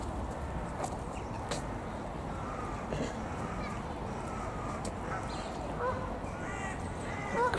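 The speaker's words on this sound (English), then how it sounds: "Crows up in the tree there." Crows caw faintly from a tree outdoors, giving scattered distant calls over a soft, steady background hiss. Occasional voices are heard.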